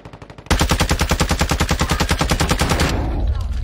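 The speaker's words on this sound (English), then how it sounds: "I just sniped him in the face." Rapid automatic gunfire in a shooter video game, a loud sustained burst of evenly spaced shots lasting about two and a half seconds after a few quieter pops, then trailing off into a noisy tail.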